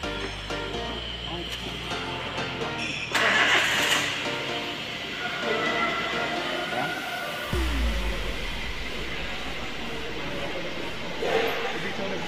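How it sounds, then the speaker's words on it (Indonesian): A car with electronic fuel injection cranks and starts during a tune-up, with a short starter whir followed by the engine catching into a low, steady idle, heard close, with talk from people nearby. "Sekarang kita coba untuk menghidupkan mesinnya."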